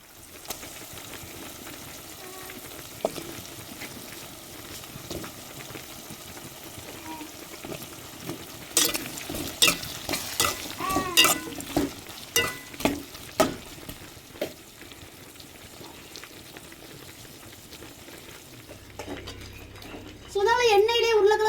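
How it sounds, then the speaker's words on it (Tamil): Potatoes and eggplant fry in oil in a home kitchen while a fish curry is cooked, with a low sizzle and bursts of stirring and pan clatter, partly under talk. "இப்போ இது எண்ணெயிலேயே உருளைக்கிழங்கையும் கத்திரிக்காயும் வேக வச்சுக்கிறோங்க"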